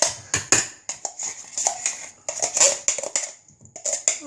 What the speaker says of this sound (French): on prend une casserole et on verse les beans à l'intérieur.